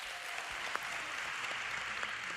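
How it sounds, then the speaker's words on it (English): Faint, steady applause from an audience thanking the evening's sponsor, Brave Parenting, a dense wash of distant clapping that holds evenly for a couple of seconds. "you can go ahead and give them a round of applause"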